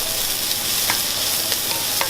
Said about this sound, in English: We're going to cook the onions so they're all nice and brown.